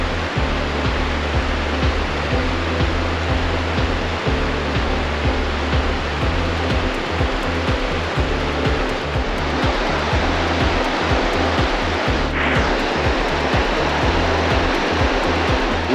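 The East Branch of the Deerfield River in Vermont's Green Mountain National Forest rushes steadily in a loud, continuous roar of flowing water, close by and unbroken for the whole stretch, with no voices.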